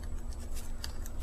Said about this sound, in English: And what I'll do is I'll take my scissors,